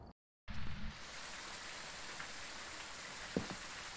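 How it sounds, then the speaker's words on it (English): Video game rain in Phasmophobia: steady broadband rain hiss with a brief thump near the start and a faint tap later, continuous and moderately loud, no voices. "Rain!"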